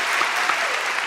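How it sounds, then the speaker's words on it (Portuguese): A television studio audience claps for a group of dancers in a short, dense burst of applause, steady and close, with no clear speech over it. "palmas para elas"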